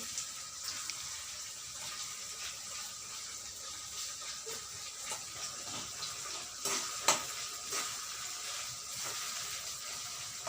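Onions fry in oil for a curry gravy alongside paneer, giving a steady, soft hiss with faint crackles and occasional stirring clinks, quiet and close, with no talking.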